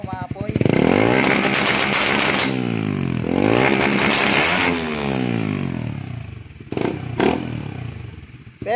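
Raider 150 Fi motorcycle engine with its silencer still fitted, revved hard in repeated rising and falling sweeps, loud and close, with idle dips between throttle blips and no talk over it.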